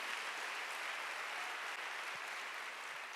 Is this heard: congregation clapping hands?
yes